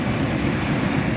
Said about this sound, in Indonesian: pesona ombak